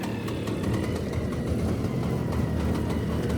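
An old magneto-fired engine that has just been started runs at a steady idle with a rough, rumbling putter. It holds at an even level throughout, up close, with no talking.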